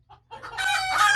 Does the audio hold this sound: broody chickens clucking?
yes